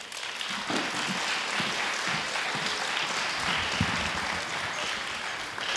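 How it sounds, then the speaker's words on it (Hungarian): Audience applause at a children's folk dance festival, a steady, dense wash of clapping from a crowd that fills the whole stretch, with faint voices underneath. "Fogadják őt is nagy tapssal."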